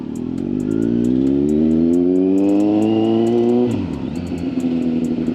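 Kawasaki Z900 motorcycle fitted with a Leo Vince exhaust and airbox delete, revving loud and close from a warm start, its pitch climbing steadily before dropping back to a rough idle.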